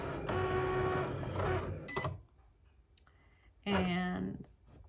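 A Cricut Explore Air 2 cutting machine slices cardstock with a loud whirring, clicking carriage run. It pauses briefly, then starts again with a second short burst of motor noise, heard close up.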